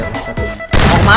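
Shotgun fire in the Free Fire battle royale game, a dull thump early on followed by a loud sharp blast with a rattling tail, close and brief.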